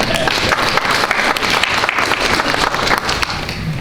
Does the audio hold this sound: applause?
yes